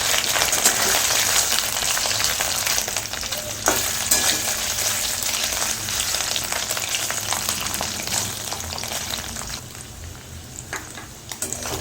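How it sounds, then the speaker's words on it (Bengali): Paneer pieces frying over high heat in a pan, a loud, continuous dense sizzle with faint crackles throughout, no voices. "পনিরের পিসগুলো একটু ভেজে নেব।"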